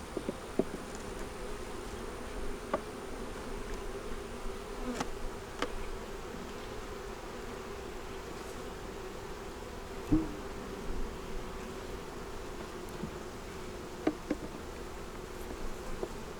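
Honey bees buzzing steadily around a hive being fed and checked for winter, a continuous soft drone with occasional louder passes as individual bees fly close.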